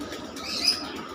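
A pigeon gives a short burst of activity up close, a soft flutter of wings mixed with a faint coo, lasting about a second.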